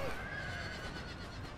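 Cavalry horse whinny in Napoleon Total War, a short high neigh rising out of a dense, continuous battle din.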